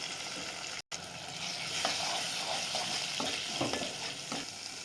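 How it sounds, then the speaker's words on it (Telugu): Beaten eggs frying in a pan for egg fried rice, a continuous loud sizzle with occasional spatula scrapes, after a brief cut near the start. "ఇట్లా ఎగ్స్ మంచిగా ఫ్రై కావాలండి మంచిగా ఫ్రై అయితేనే అన్నంకి మంచిగా టేస్ట్ వస్తుందండి"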